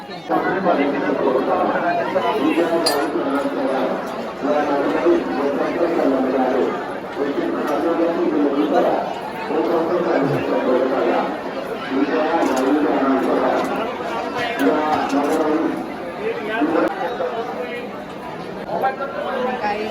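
Dense crowd chatter at Jejuri temple, many voices blending into a steady loud murmur at close range with occasional clatter, while a nearby person talks over it.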